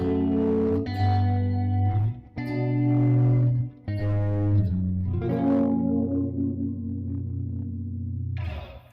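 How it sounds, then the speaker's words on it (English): Clean electric guitar tone drenched in reverb, delay and a touch of chorus, a few ringing chords and notes that sustain and fade into spacious echo, alone with no talk. "all that is reverb and delay and a little bit of chorus"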